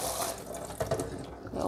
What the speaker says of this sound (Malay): Nah ini aku rendam pakai air garam ya.